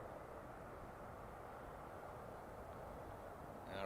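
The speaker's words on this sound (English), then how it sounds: "It's a long takeoff roll." Steady broadband roar of a fully loaded Saudi airliner on its takeoff roll at Amsterdam Schiphol, heard from a distance, constant and even with a slight swell at the very end.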